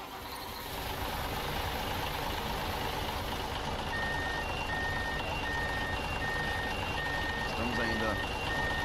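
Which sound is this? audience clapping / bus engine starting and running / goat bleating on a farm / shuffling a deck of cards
bus engine starting and running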